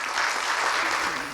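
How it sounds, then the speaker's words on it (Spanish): An audience applauds guests before a talk on biodiversity, a brief, soft, fairly distant patter of many hands that fades out after about a second, with a faint voice underneath. "Un aplauso para ellos, por favor."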